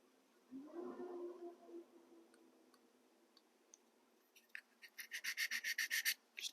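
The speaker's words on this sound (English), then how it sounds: "Just doing a little sanding on the ends of the roof to make sure that's nice and clean." Sanding the ends of an On18 scale model boxcar roof, a quick run of about ten close, even rasping strokes after a soft rubbing start, with no voices.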